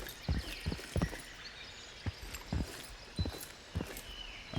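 Footsteps in the military shooter game Incursion Red River, a series of separate thudding steps spaced unevenly across a few seconds, moderately close against a low background hum, with no talk.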